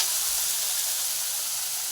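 Bitter gourd frying in a pan gives a loud, dense, unbroken sizzle that sounds like a steady hiss, close up and alone.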